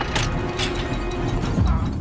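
Lever mechanism operating in the video game Valiant Hearts: a steady mechanical grinding and creaking with gear-like rattles running the full two seconds, fairly loud, with a low thud near the end and no talk.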